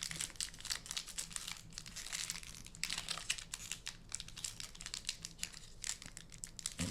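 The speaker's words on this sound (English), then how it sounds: "let's open some boosters" Foil wrapper of a Magic: The Gathering Final Fantasy booster pack being torn open and crinkled close up, quiet irregular crackles and rustles with no talking.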